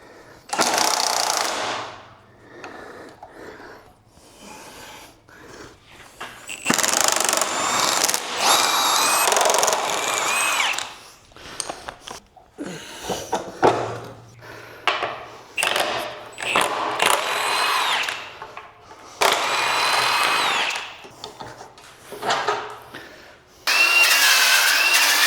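A power tool, presumably an impact wrench, works a bolt on the torsion bar of a 1960 Chevrolet Apache in loud, rattling bursts of several seconds each, separated by short pauses, up close in a shop.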